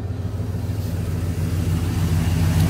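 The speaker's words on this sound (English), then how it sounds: "it's just got a nice kind of muscle car rumble to it" A 1993 red 4x4 truck with a 460 engine rumbles close by at idle, a deep steady low throb that swells slightly louder halfway through, with no talk.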